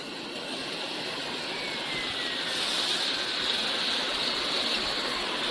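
An air blower pushes air through water in a French fries production line, making a steady, loud hiss of bubbling and rushing water with a high whine on top and no talking.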